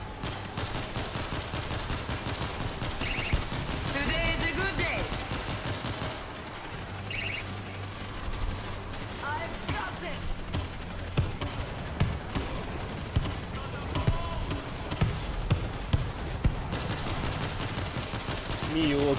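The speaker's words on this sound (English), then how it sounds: "Machine gun ready?" Sustained automatic machine gun fire in World War Z, rapid rattling bursts running through the whole stretch amid game combat noise, with players talking over it.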